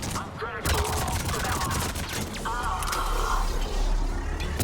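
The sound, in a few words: turret gunfire in the video game Mass Effect 3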